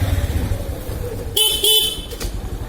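Two short motorcycle horn beeps sound close by over the bike's running engine low rumble, the second toot slightly longer.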